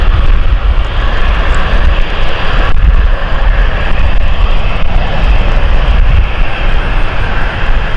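A Dash 8 turboprop airliner lands at London City Airport, its engines giving a loud, steady, close roar with a broad rushing drone that holds throughout with no voices.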